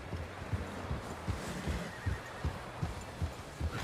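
Horses in Red Dead Redemption 2 give a whinny over a run of soft, rhythmic hoof thuds, a small group sounding moderately close.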